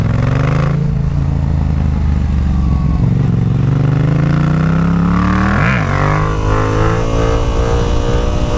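A Yamaha MT-07 motorcycle being ridden, its engine droning loud and close with rising and falling pitch as it revs and shifts, plus steady wind rush and no talk.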